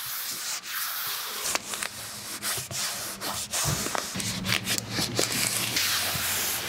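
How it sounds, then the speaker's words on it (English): Landau vinyl is stretched and smoothed by hand over a column inside a Ford Transit van, giving a continuous close rubbing and sliding sound with small taps and squeaks throughout, and no voices. "I'll set that bottom inch, and I'll stretch my Landau up a little bit into place."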